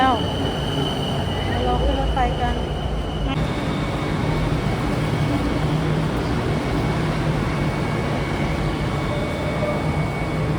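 An electric train pulls into a Thai station with a steady low rumble and broadband rolling noise, plus a brief whine early on, while voices murmur nearby.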